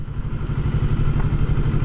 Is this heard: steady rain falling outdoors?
no